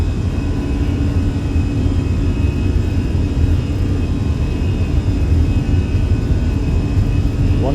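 Airbus A320ceo engines at takeoff thrust in the Fenix flight simulator on Dublin's runway 28L, a loud, steady broadband roar and rumble held without change from start to finish.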